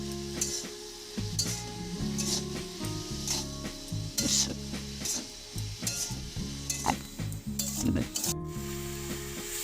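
Sliced onions with turmeric and salt fry in hot oil in a pan, giving a steady sizzle broken by regular scraping and clinking as a spatula stirs them.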